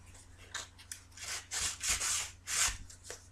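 Sandpaper rubs over sharp corners of painted wood in a bedroom, giving a string of short, rasping strokes that grow longer and louder near the end, close and alone.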